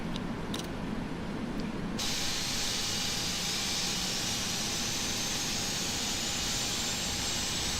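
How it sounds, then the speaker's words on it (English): The left jet engine of a PMDG 777-F freighter spools up in a flight simulator, a steady loud hiss and rushing roar that swells abruptly after a short quieter start and then holds constant. "Starting left engine."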